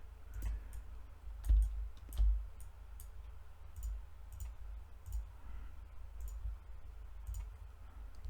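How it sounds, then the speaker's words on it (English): Computer mouse clicks while selecting edges in the Moi3D 4.0 modeling program, a series of sharp, close, fairly quiet clicks spaced irregularly over a low steady hum. "I am going to click all the edges."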